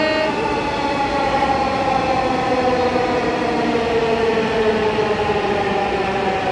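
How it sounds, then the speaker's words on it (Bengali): A metro rail train pulls into the station with a steady, loud rolling rumble and sustained tonal whine, with no talk. "ওই ট্রেন চলে আসছে"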